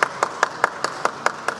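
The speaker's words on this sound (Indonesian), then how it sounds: "Tepuk tangan." Single pair of hands clapping in a steady, even rhythm, about eight sharp claps, moderately faint, welcoming Indonesia's youth and sports minister at an arrival ceremony for the Thomas Cup badminton team.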